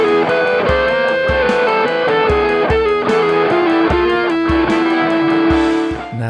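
Heavily distorted electric guitar chugging chords over drums, a Gibson Les Paul through a Rat distortion pedal, a thick saturated rock tone that sustains throughout.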